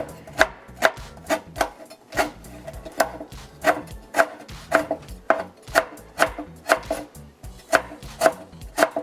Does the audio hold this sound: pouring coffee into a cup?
no